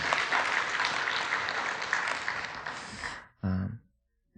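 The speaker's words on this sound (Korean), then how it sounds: "자, 우리 하나님께 영광의 박수 올려드리겠습니다." A congregation claps at a Korean Sunday church worship service. The lively, dense applause runs for about three seconds and fades. A brief breathy sound follows, then near silence.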